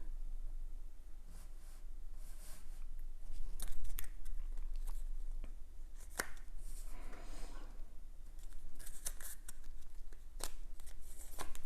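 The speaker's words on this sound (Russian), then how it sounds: "Сейчас мы подвинем карты." Tarot or fortune-telling cards slide and shift across a table in a series of soft, papery swishes and light taps, close and fairly quiet, spread unevenly through the stretch with no talking.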